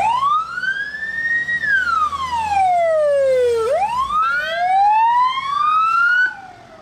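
An ambulance siren on a city road wails loud and close, its pitch sweeping up and down in long slow glides, with traffic rumbling faintly underneath.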